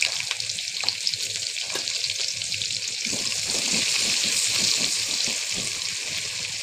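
Onions frying in oil with cardamom, cinnamon and bay leaves, a loud continuous close sizzle with a broad hiss and scattered crackles, swelling slightly midway, with no talking.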